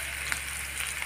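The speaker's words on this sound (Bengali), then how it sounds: "দিয়ে ভালোভাবে নেড়ে চেড়ে আমি মিশিয়ে এটা লাল লাল করে ভেজে নিব।" Ginger garlic paste fries in a pan for a tawa chicken dish, giving a steady, even sizzle with faint crackles and no talking.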